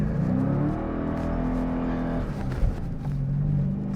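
A 2015 Dodge Challenger SRT 392 launches hard from a standstill in launch mode. A loud, continuous engine roar rises over four seconds, heard from inside the car.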